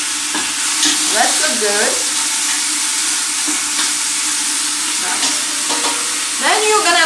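Chicken fries in a pot until crispy, giving off a loud, steady sizzle with stirring scrapes throughout; a voice speaks briefly.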